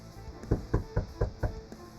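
Five evenly spaced knocks on a door, firm and close, rapping in a steady rhythm with nothing else heard around them.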